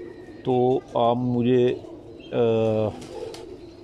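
Cheenay breed pigeons cooing close by, three distinct throaty coos in a row with a pause before the last, and someone speaks briefly near the end.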